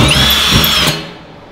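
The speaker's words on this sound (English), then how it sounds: "we've got the entire barrel drilled" Power drill boring holes through a steel drum smoker barrel, a loud close whirring whine that winds down and cuts off after about a second.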